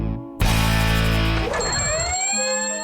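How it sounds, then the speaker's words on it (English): An alarm clock at 7:30 in the morning bursts into a loud, sustained electronic ringing, then shifts into warbling, rising tones that keep sounding alone without any voices. "7:30 in the morning. The alarm goes off."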